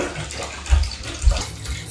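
Water runs from a tap in a steady splashing stream, with a couple of low thumps as it pours into a basin nearby.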